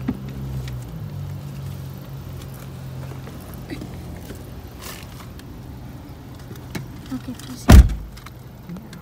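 A truck sits parked outside a mall in Corner Brook with a low rumble in the background, and near the end one of its doors shuts with a single solid thunk. A person speaks briefly.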